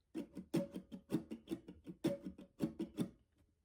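Alternate 2 strumming pattern from a song on acoustic guitar, a rhythmic burst of dense down and up strokes with periodic heavier accents, heard up close without talking, fading briefly at the end.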